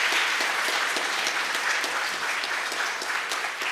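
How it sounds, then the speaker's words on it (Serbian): Festival audience applauding steadily at the BOSIFEST 2022 awards and closing ceremony, a dense continuous clatter of many hands from a large crowd, fairly loud and sustained throughout. "jedan veliki aplauz za sve vas"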